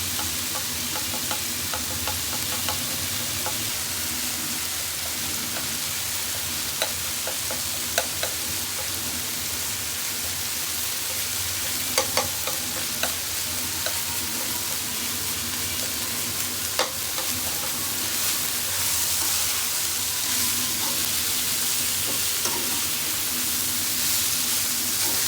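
Ginger garlic paste sizzles and fries with vegetables and chicken in a pan, a steady crackling hiss with scattered pops and stirring throughout.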